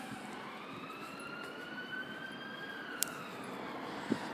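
A wailing emergency siren rises and falls steadily in the distance, faint beneath constant low traffic rumble, with a couple of brief clicks near the end.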